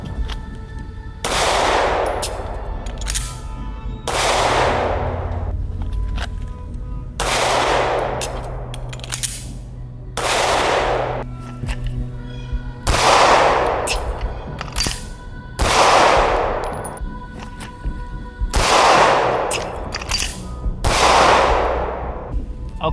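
Pistol shots in a draw-and-reload drill, about ten sharp, loud reports in pairs and singles spaced a few seconds apart, each with a ringing outdoor decay, with no talking between them.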